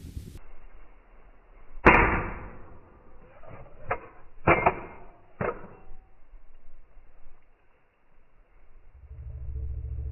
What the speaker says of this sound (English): We're 6 foot up.